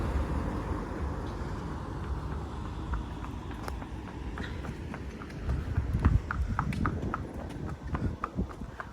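Hooves of Flash, a mare out hacking alone on a paved road, clip-clop in a steady walking rhythm, close and clear over faint background road noise.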